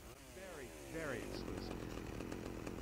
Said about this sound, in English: Ooh, we get a chainsaw?